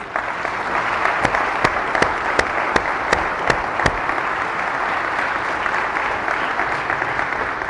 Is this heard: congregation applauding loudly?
yes